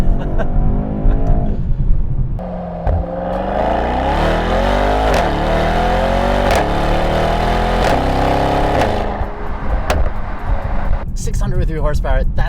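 A Mercedes-AMG E63 wagon's 603-horsepower engine revs hard after a downshift, loud and sustained with rising and falling pitch sweeps as it is held through the gears, close and continuous from start to finish.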